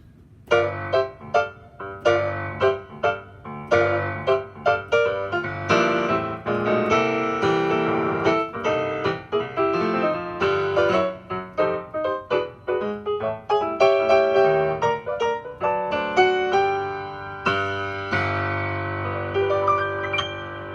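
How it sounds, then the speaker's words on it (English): A Yamaha P-125b digital piano on its third piano voice plays a flowing passage, chords and melody ringing close and clear with sustained tones, no talking. "Third piano sounds like this."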